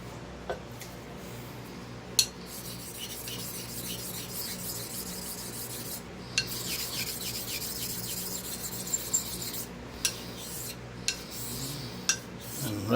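Straight razor honed on a 1000 grit whetstone while setting the bevel, giving a continuous gritty scraping and rubbing with occasional sharp clicks, close up and with no talk.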